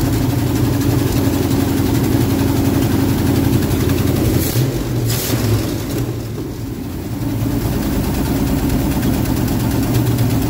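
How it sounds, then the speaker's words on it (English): A 1976 Ford F250 high boy with a 390 FE V8 idles after a starter replacement, a loud, steady, close engine drone with a slight dip partway through. "See if it'll idle."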